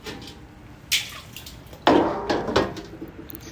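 Water is poured into a barrel outdoors, with a short splash followed by a louder, gurgling pour that sloshes for over a second and tapers off close by.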